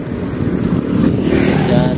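Motorcycles pass close by on a village road, their engines making a loud buzzing drone that swells slightly as they go by.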